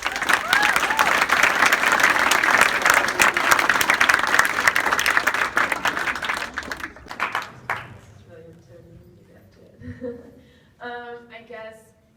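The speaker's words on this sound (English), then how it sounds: "So I'd like to give another round of applause for the parents and families." A crowd at a national letter of intent signing day gives a long, loud round of applause for parents and families, which fades out after about seven seconds as a voice begins speaking.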